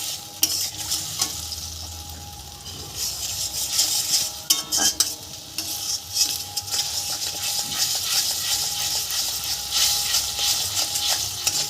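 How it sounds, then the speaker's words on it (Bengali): Masala with turmeric fries in hot oil in a pan, crackling and hissing steadily while a spoon scrapes and clinks against the metal in irregular stirring strokes. "এবার মশলাটা কষাতে থাকবো।"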